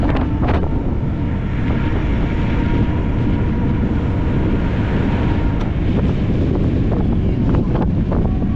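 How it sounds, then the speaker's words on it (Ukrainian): Strong wind buffets the microphone in a constant low roar, loud and unbroken throughout. "Ох і вітер якраз."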